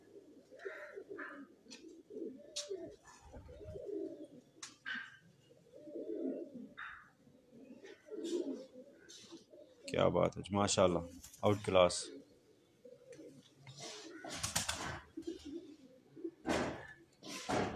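A Lakha golden pigeon coos in low throaty bursts on a rooftop, mixed with sharper clicks and noises, while someone talks over it intermittently.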